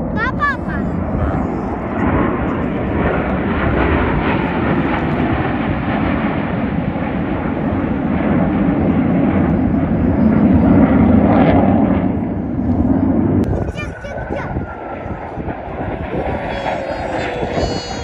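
Blue Angels jets roaring past at an air show, a loud sustained rumbling engine roar swelling and fading overhead for many seconds while people talk nearby.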